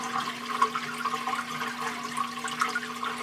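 Liquid drains from a FastFerment conical fermenter through a barbed hose, a steady gurgling rush of flowing water with a faint hum underneath, no talking.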